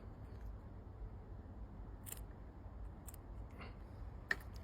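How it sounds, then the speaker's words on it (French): Scissors trimming excess fishing line, including fluorocarbon leader, after tying a knot: a few faint, crisp snips spaced a second or so apart against a quiet, low background hum. "Et je vais couper l'excédent de fil."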